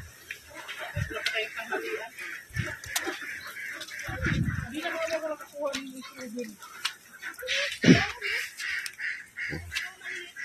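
Ducks quack and honk in scattered bursts amid heavy rain noise and people talking nearby on a farm.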